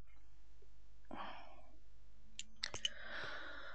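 A keyboard button clicks a few times in quick succession, quiet and close, amid soft breathy background noise.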